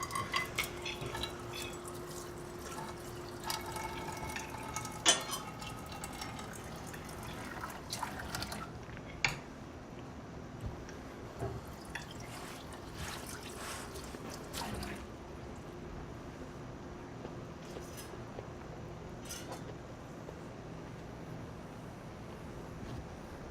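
Dishes being washed under running water at a kitchen sink, with a steady wash of water and scattered clinks of pots and cutlery throughout, moderately close.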